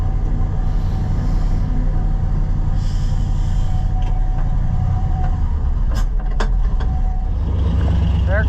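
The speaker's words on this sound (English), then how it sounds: "Comes a trash truck." A trash truck approaching on a street, heard from inside a Ford L-Series truck: a loud, steady engine rumble and road roar with brief clanks and squeaks as it draws near.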